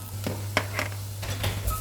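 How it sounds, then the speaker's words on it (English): Onion and garlic frying in a pan while being stirred, for a butternut squash and chickpea curry: a steady soft sizzle under several scraping strokes of a utensil against the pan, close by, with no talk. "Continue to stir all the time so nothing burns to the bottom of the pan."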